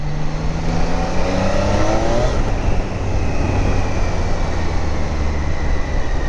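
A loud 2025 Triumph Daytona motorcycle engine revs steadily and continuously, its droning pitch shifting up and down as the throttle is worked, with no voices.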